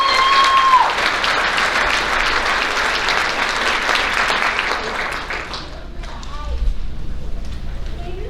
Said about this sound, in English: please give these softball ladies a round of applause